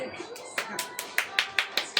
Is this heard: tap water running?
no